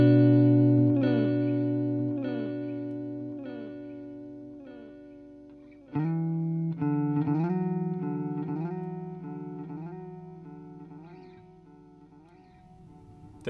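A guitar runs through the tape echo effect of a Boss MS-3 multi effects switcher. Plucked notes and chords repeat in fading, slightly wobbling echoes, with a louder strummed passage midway that then trails off, and no talking.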